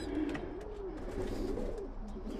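Young pigeons in a loft coo softly and continuously, with low rolling calls close by and no voices.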